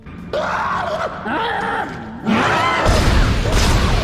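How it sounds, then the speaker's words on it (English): A monster in the horror video game Dead Space lets out harsh, wavering screeches. The cries are loud and close, ending in a rough, noisy burst that sounds like a crash. "The monsters let out some pretty spooky screeches"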